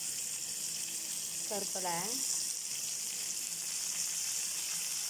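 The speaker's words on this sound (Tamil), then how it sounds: "எண்ணெய் காஞ்சிருச்சு வெங்காயம் போடுறோம்" Onions going into hot oil give a steady, soft hiss of frying sizzle, with a short spoken phrase partway through.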